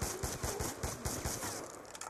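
An SMR rifle in Black Ops II fires a quick run of sharp, evenly spaced shots, about eight close and punchy reports that thin out toward the end.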